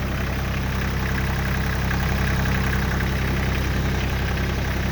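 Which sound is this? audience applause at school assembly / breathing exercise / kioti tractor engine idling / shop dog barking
kioti tractor engine idling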